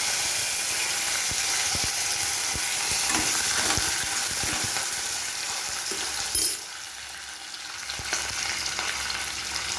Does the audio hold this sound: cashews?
yes